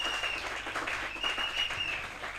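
A church congregation claps and cheers in acclaim of the Lord, a steady wash of applause from a crowd at moderate distance, continuous throughout with a faint tonal hum beneath.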